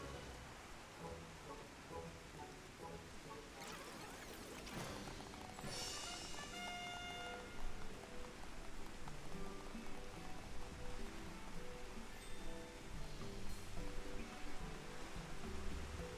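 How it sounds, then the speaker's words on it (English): Steady rain patters softly in Final Fantasy XIV, a faint continuous hiss under quiet game music with a few brief chimes and a brighter rush in the middle. "It's even worse that it's raining."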